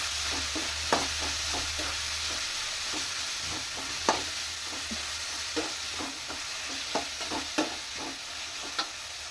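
A bisibele bath mixture with salt fries in a pan, giving a low continuous sizzle broken by regular sharp scraping taps of a spoon stirring, quiet and without speech.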